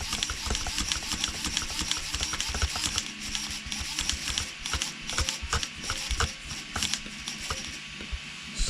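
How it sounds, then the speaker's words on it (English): A servo motor running on a hyper semi truck build, a busy mechanical whir with rapid ratcheting, gear-like clicks and pulses, close and fairly loud, without talk. "That's the servo."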